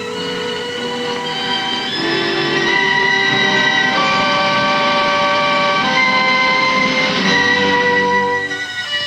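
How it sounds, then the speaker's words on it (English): Train hauling limestone away from the quarry pits on a specially laid railway, with a steady rolling rumble and long tonal squeals or horn-like tones running throughout, close and continuous. "Railways specially laid from the pits carry away the limestone to be made into cement"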